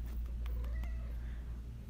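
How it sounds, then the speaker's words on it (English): A house cat meows once in a short, plaintive call, close by against a low steady background hum. "Let me put my cat down here."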